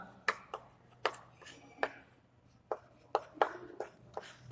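A pen taps and scratches as a math problem is written out: faint, close strokes in an irregular rhythm of short ticks and scrapes over a quiet background.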